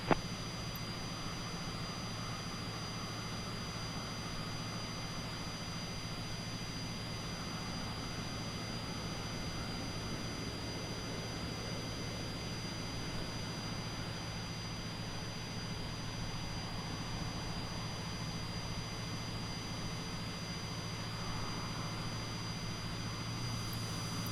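Jet engines of a Cessna Citation Longitude run in Microsoft Flight Simulator 2020 during engine start on the ground in Alaska, a steady even whine and rumble held at constant level throughout.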